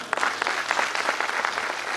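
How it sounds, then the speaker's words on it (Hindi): Vigorous applause from an audience at a company gathering, hailing a regional manager, with rapid continuous clapping that stays loud and even throughout. "एक बार उनके लिए भी जोरदार ताली"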